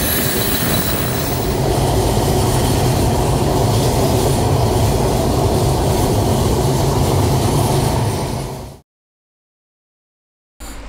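Sundarban Express passenger train running from Dhaka toward Kushtia, a loud steady roar of wheels on rails with squealing and clatter for about nine seconds, then a sudden cut to silence before the roar briefly returns.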